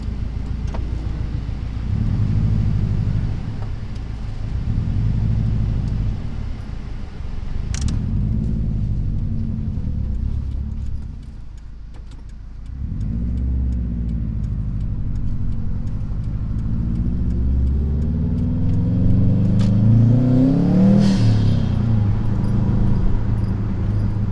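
A Subaru STI back on the road after two years, its engine droning and rumbling inside the cabin as it drives and accelerates, the pitch climbing strongly near the end.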